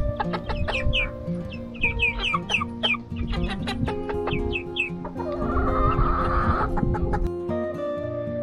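Young chickens and maturing roosters cluck and chirp repeatedly in short, overlapping calls close by, with a steady low hum and a brief burst of broadband noise partway through.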